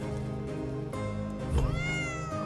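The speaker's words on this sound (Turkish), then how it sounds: "Aha, kara kedi geldi." A black cat in a video game lets out a clear, close meow with rising and falling pitch, standing alone over a steady game soundtrack.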